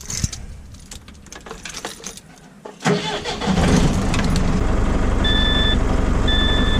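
A DAF LF truck engine turns over and catches, then settles into a loud, steady idle to build brake air pressure in a workshop, running continuously after a short quieter stretch of clatter.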